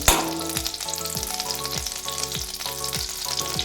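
Chicken stock is poured gently into hot melted butter in a pan for chicken soup, giving a close, vigorous sizzle with bubbling spatters and rhythmic stirring taps, no voices.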